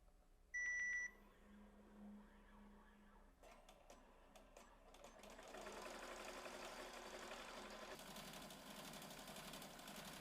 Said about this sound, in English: Now that our jacket is on the machine, we can start sewing.